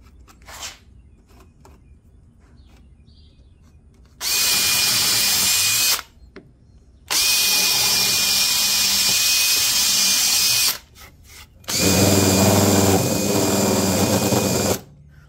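Power drill driving screws into a wooden jig for a Granberg G-1012XT electric chainsaw sharpener, heard in three long steady whining runs of a few seconds each, separated by brief pauses, close and loud with no talk.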